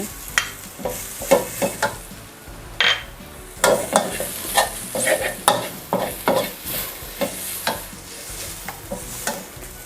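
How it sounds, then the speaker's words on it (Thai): Aromatics and soaked dried shiitake mushrooms sizzle in a hot pan while a utensil scrapes and stirs in quick, repeated strokes, close and fairly loud. "เดี๋ยวเราเอาไปผัดให้หอมก่อนเลยนะคะ"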